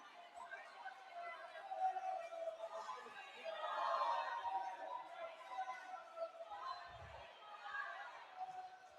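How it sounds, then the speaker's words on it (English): Crowd murmur and cheering at a university volleyball match in Paco Arena, a diffuse hall ambience of chatter rising and falling under nearby talk, with a faint thud midway. "You can hear the crowd here at Paco Arena."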